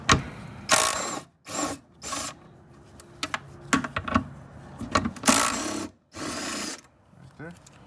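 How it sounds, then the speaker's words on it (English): A power tool whirs in several short, loud bursts while removing bolts during a fuel pump replacement on a 2008–2013 Cadillac CTS, with pauses and someone talking in between. "I'm using a power tool for this just to make the job faster."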